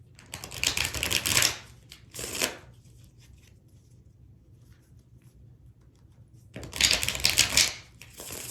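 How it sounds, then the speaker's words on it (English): Tarot cards are shuffled loudly in three riffling bursts, two close together, then a pause before a longer final burst. "Sorry for the loud shuffling"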